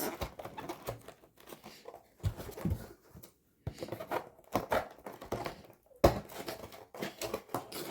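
A diamond painting canvas is cut with close, crisp snips and crinkling rustles in irregular bursts broken by short pauses, quiet with no talking.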